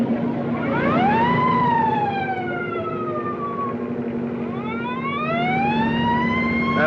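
A police motorcycle siren wails close behind a car, rising and falling in a loud, steady electronic sweep that dips midway and climbs again, heard alone.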